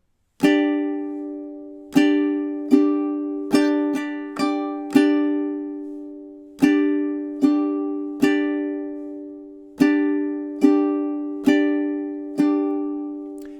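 Ukulele playing measures five and six of a song, a run of about fifteen clear strummed chords in a bouncy rhythm with quick down-up pairs and brief gaps, each ringing out, solo and close.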